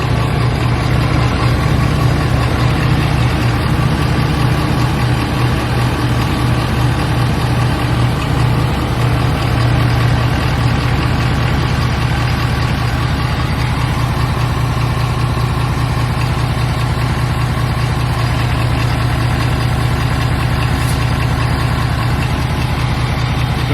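Ford 6.7L Powerstroke diesel V8 in a 2011-2019 pickup idles steadily after starting, a loud, continuous low rumble with an even throb and no voices.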